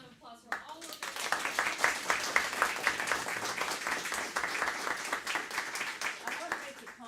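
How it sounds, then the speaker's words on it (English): A round of applause at a board of education meeting, scattered claps building into a steady patter of hands that carries on for several seconds at moderate distance. "another round of applause for all of them"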